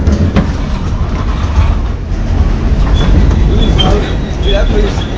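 R46 subway train at 18 Avenue station on the BMT Culver Line, heard as a steady, loud rolling rumble with rail clatter throughout, while people talk nearby.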